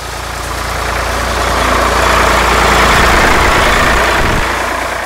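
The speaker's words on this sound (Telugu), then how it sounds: "అదొక చెరుకు ట్రాక్టర్ సార్" A sugarcane tractor's engine runs loud and close, a steady low diesel rumble that swells slightly in the middle as it passes, with no voices.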